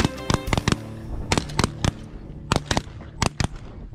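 Shotgun blasts ring out during a duck and goose hunt in Alberta, about a dozen sharp reports fired in quick clusters, loud and close, with brief pauses between volleys.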